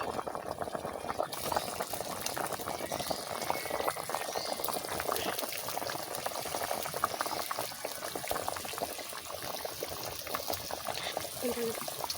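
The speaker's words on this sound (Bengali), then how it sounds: "মাছ দিয়ে দিচ্ছি" A curry of magur catfish and potatoes boils vigorously in a pot, a constant near bubbling and gurgling throughout with no distinct splash as the fish goes in.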